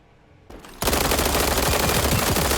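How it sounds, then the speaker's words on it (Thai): After a short quiet lead-in, loud rapid automatic gunfire from an MPX in a World War 3 video game erupts and keeps going in a dense, sustained barrage. "เสียงปืนดังปั้งขนาดนั้น"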